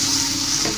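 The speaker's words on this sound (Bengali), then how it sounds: "চিনি দিয়ে দিতে হবে এবং নেড়ে দিতে হবে যাতে চিনিগুলো মিশে যায়।" Sugar is stirred into an elephant apple pickle cooking in a pan, giving a close, continuous sizzle with scraping stirring throughout this short moment.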